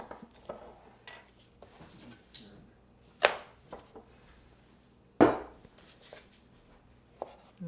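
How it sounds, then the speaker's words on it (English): Knife slicing preserved lemons thin on a cutting board: a few soft, irregular cuts with two sharp, louder knocks of the blade against the board, close and otherwise quiet. "And we'll just slice those thin."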